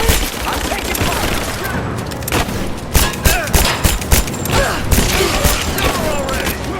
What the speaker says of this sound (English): We're under attack! He's hit! I'm taking fire!